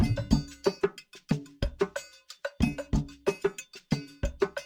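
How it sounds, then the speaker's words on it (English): A looping percussion pattern of sharp, resonant hits and knocks in an uneven groove, fairly loud and close, with no one speaking. "percussion loop right here, which sounds like this."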